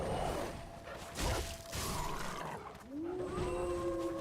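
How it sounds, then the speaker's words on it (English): A wolf howls in the Dark Souls 3 DLC, a rising tonal cry emerging near the end after whooshing combat noise and a brief roar-like burst. "Nope. There's the howl."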